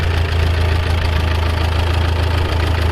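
A Case Model L tractor engine runs at a steady idle, a loud low rumbling throb with an even knocking pulse that continues without a break, and no voices.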